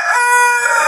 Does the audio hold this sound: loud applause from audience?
no